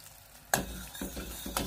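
A spoon scrapes and clinks against a pot of boiling sugar syrup for icing several times while the liquid bubbles and sizzles softly underneath.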